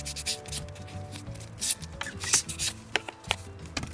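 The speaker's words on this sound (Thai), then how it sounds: "เราก็ใช้กระดาษใส่ฟอง น้ำขัด ขัด พวกผงสีที่ เป็นเม็ดๆ ออกนะคะ" Dried airbrush paint specks being sanded off with a sanding sponge, giving close, continuous scratchy rubbing strokes with a few sharper scuffs, no talking.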